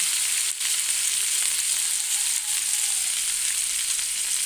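Chayote dropped into a hot pan of lechon paksiw, a loud, continuous close sizzle with no talking.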